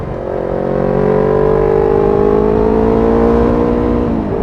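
A Yamaha R25 motorcycle accelerates hard, engine pitch climbing steadily in one loud, close rising whine before easing off at the end.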